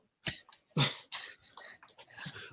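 A dog barks and whines in a string of short, uneven bursts at close range, with breathy noises between them and no clear talk over it.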